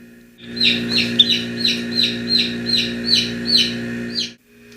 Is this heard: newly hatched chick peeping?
yes